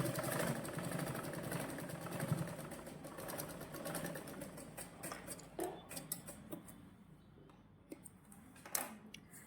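A sewing machine stitches a tube blouse with a quiet, rapid mechanical ticking that runs steadily, then breaks into shorter bursts with brief pauses.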